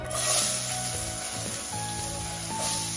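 Cumin seeds and onion pieces sizzle in hot oil for a prawn masala curry, a dense frying hiss with a low tonal hum beneath and occasional spoon shifts.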